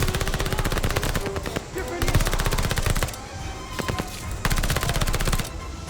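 Rapid machine-gun fire in Call of Duty Vanguard's campaign, dense bursts of automatic shots rattling back to back, loud and close, with brief lulls between volleys.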